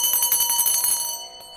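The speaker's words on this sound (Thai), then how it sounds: "เสียงกระดิ่งไอติมมาแล้วนะคะรถไอติมมาแล้ว" Ice cream truck bell ringing in quick repeated strokes, bright and metallic with a lingering shimmer, fairly loud and alone before fading out.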